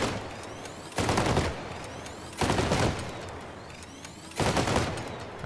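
Synthesis weapons in the vehicle combat game Crossout fire in three loud bursts about a second and a half apart, with a crackling, hissing tail fading between each volley.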